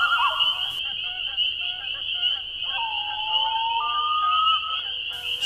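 Loons calling to one another across a lake at night in spring, a long wavering wail rising and holding over a steady frog chorus trilling in the background.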